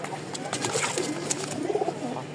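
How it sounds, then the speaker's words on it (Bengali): Two pairs of pigeons for sale coo in soft, rolling bursts close by, while a voice talks over them. "মোট এখানে হচ্ছে 2 পেয়ার কবুতর।"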